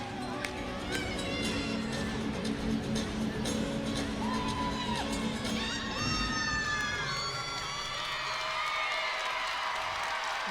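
A capacity crowd of more than 12,500 at an Arkansas vs LSU college gymnastics meet cheers loudly and continuously, with shrill whoops and screams rising above the roar.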